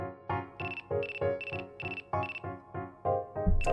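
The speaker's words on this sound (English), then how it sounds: "Oh, the nurse call is ringing." Nurse call bell ringing in a video game, an electronic chime repeating in quick, evenly spaced bursts about twice a second, loud and alone with no talk.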